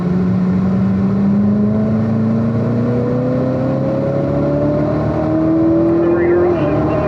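A Corvette C7 ZR1 accelerates hard out of a corner in third gear, its engine drone climbing steadily in pitch for several seconds, loud and close from inside the car, before a brief dip near the end.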